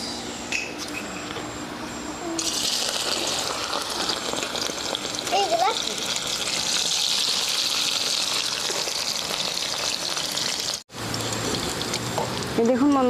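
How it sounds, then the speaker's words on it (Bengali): Bamboo shoots frying in white oil in a wok in a village kitchen, a strong continuous sizzle and hiss that swells after a couple of seconds, with brief scraping and a short break near the end. "আমি কিন্তু এখন একটু ভাজে নিব। এরকম করে কিন্তু খায় দেখবেন একবার, আলাদাই স্বাদ লাগবে কিন্তু। দেব সাদা তেল কড়াইতে।"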